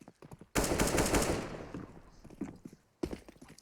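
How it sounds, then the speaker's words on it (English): Bursts of rapid gunfire from a video game during an esports grand final, a loud sustained volley followed by quieter scattered shots and another burst near the end. "Daps is hearing all of this gunfire coming his way"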